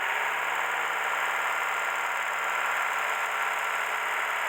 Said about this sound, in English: I'll slightly rev the car.